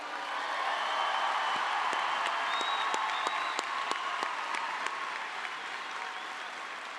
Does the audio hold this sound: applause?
yes